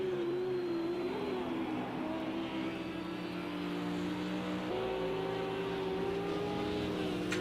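A Lamborghini race car engine at Monza in a racing video game drones at steady high revs, its pitch dipping and climbing with gear changes, while a commentator's voice comes through faintly.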